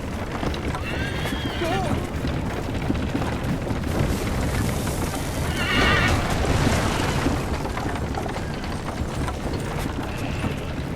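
A horse neighs and whinnies in the Assassin's Creed III: Liberation video game, with clip-clopping hooves, rumbling booms and urgent shouted voices over a loud, busy game soundscape.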